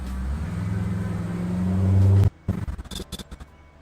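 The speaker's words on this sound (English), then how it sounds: "the truck's going past on this day" A truck rumbles past close by, a loud low drone building to a peak and then cutting off abruptly, followed by a few scattered softer knocks and clatters.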